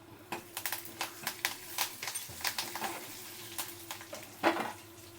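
Oil sizzles and crackles steadily as dried red chillies and curry leaves fry, with scattered scraping and tapping from stirring in a pan, close up and with no talking.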